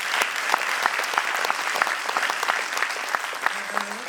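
Audience applause after a children's play put on by a youth organisation at Milton Keynes Science Centre, a steady dense round of clapping from a seated crowd with a faint voice near the end.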